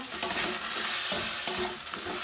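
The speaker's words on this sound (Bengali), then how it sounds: "পাঁচফোড়ন আর পেঁয়াজ দিয়ে আলুগুলো ভেজে নিচ্ছি" Potatoes sizzle in oil with panch phoron and onion while a utensil scrapes and stirs the pan in a few distinct strokes, close and clear.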